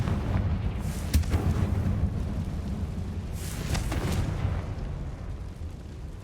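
A Confringo blasting spell erupts in a Harry Potter video game, a deep rumbling explosion with a sharp crack near the start and a second burst partway through, fairly loud and sustained with no voices.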